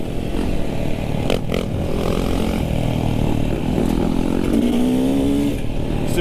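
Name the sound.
dirt bike engine revving while riding a wheelie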